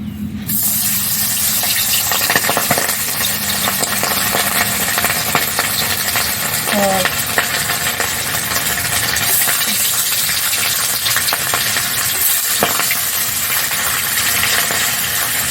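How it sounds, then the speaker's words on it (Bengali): Magur catfish frying in hot oil, a steady loud broadband sizzle and crackle filling the whole span with brief clinks, no talk. "তেল গরম হয়ে গেছে। এখন আমি মাছ দিয়ে দিচ্ছি।"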